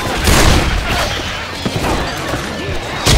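Dense, loud gunfire and booming impacts from a Left 4 Dead 2 match, a continuous roar of shots with a heavy burst at the end, players' voices mixed in.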